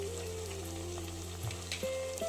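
Chopped potato and jeera (cumin seeds) sizzle in a cooking vessel for paalak rice, giving a steady crackling fry under a faint tonal hum. The sizzle stays close and even, with no talk.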